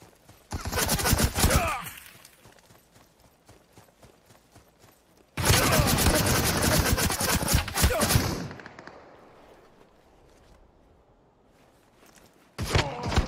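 Bursts of rapid gunfire in a video game, loud and dense, in two long volleys with a sharp short burst at the end, separated by quieter stretches of low background rumble.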